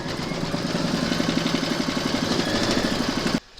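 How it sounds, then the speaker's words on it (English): A home embroidery machine stitching an in-the-hoop cherry coaster design, with a steady fast rhythmic mechanical hum and tapping that runs continuously and stops abruptly at the end. "Pop your hoop into your machine and stitch round number 7,"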